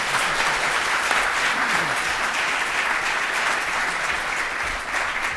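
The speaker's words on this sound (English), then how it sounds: "let's give a round of applause to our panel." Steady, full applause from a conference audience at the closing session of an international energy event, a dense wash of many hands clapping for a panel, fairly loud and even throughout with no speech.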